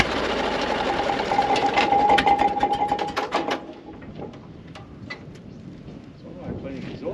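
A 1937 Minneapolis Moline engine fires up for its first start in over 20 years, a loud, fast mechanical chatter that runs steadily before dropping to a quieter, rougher rattle.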